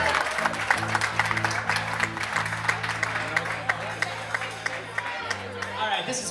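A live audience applauds in a steady wash of clapping that runs the whole time. A sustained musical hum sits beneath it, and voices are partly mixed in.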